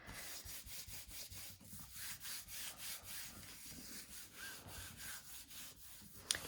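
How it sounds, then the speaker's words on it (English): A handmade rubbing tool is rubbed back and forth over a gel print in quick, rhythmic strokes, a soft scratchy scrubbing that repeats steadily at close range with no speech. "And then my handmade rubbing tool."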